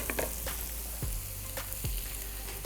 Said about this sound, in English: I'm adding shiitake first. I'll roll the shiitake around the pan